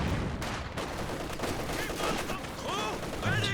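Machine-gun fire rattles in rapid bursts during a Company of Heroes 2 2v2 battle, mixed with other gunshots and combat noise at moderate loudness.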